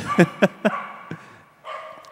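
Dogs barking during a church sermon, three quick loud barks in a row, then a fainter bark and a longer whining yelp, heard up close with a quiet room behind.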